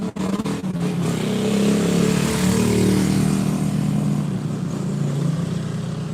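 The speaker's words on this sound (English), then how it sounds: "These people on a motorcycle are pretty freaking annoying" A motorcycle engine revs and drones loudly from start to finish, a steady mid-pitched roar with some rise and fall as it passes close by, heard alone with no talking over it.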